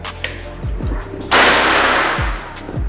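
One sharp, airy discharge from a Jawara Mauser PCP air rifle with a silencer in a chronograph speed test, close and loud, set against recurring low knocking thuds in the background.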